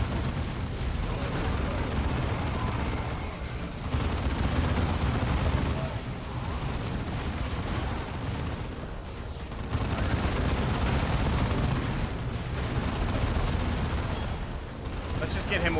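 Artillery barrages in Dawn of War 2: Chaos Rising, with dense, continuous rumbling explosions and rolling blasts, loud and layered for many seconds, swelling and easing in waves amid battle noise.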